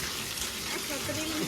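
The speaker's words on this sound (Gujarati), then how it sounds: "બહુ જ વરસાદ છે આજે" Heavy monsoon rain with floodwater rising around a house, heard as a faint, steady wash of rushing water and rain noise.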